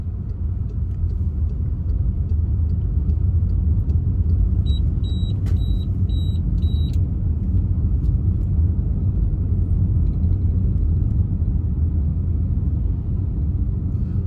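Car driving straight along a driving-exam route road, a steady low engine and road rumble heard from inside, constant and fairly loud, with a brief faint electronic beeping partway through and no talking.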